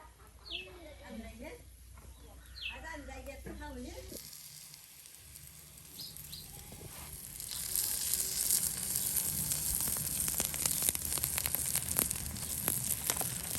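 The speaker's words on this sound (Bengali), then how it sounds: "বড়া ভাজি করলে তেলটা একটু বেশি লাগে" A voice speaks first, then a steady crackling sizzle of drumstick-flower fritters frying in hot oil builds and grows louder, continuing alone to the end.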